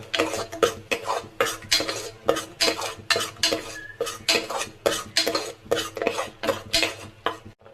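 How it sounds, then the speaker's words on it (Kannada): Onion paste for country chicken sambar being stirred by hand in a pot with a metal ladle: a rhythmic series of close, loud scraping and clinking strokes, roughly two per second, with a faint sizzle beneath and no talk. "ಹಸಿ ವಾಸನೆ ಹೋಗೋವರೆಗೂ ಸ್ವಲ್ಪ ಇದೇ ಥರ ಕೈ ಆಡ್ತಾ ಇರಬೇಕು, ತಳ ಹತ್ತಿದಂಗೆ"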